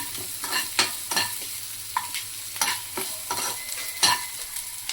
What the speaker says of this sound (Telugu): ఆనియన్స్ ఎక్కువ వేగనవసరం లేదండి, కొంచెం వేగితే చాలు, సరిపోతుంది.